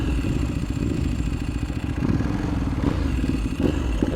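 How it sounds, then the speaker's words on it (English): A VYRUS motorcycle engine runs steadily nearby with a low, throbbing, Ducati-like rumble and light mechanical clatter, holding a fairly even loud idle for a few seconds with no talking. "It sounds like a Ducati"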